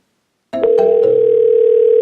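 An outgoing call in a turboDial Find-Me forwarding sequence rings unanswered: after half a second of silence, a steady, loud ringing tone starts and holds without a break.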